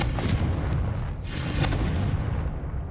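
Fire-blast Confringo spell cast in the Hogwarts Legacy video game, a loud, dense booming burst with rumbling low end that swells and holds steady for about three seconds, no talking over it.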